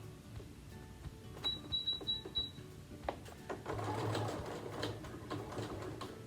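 Sewing machine stitching fabric with a soft mechanical whir, faint and close, joined by a few short beeps early on and rising into a busier run of stitching.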